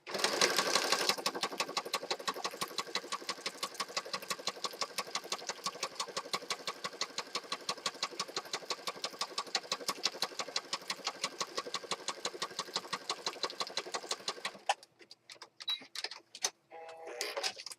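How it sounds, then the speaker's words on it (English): A sewing machine stitching around a scrappy journal piece, a steady rapid needle rhythm of even ticking pulses running continuously at close range before stopping, followed by a few scattered clicks and rustles of handling. "So now I've got that piece all stitched around."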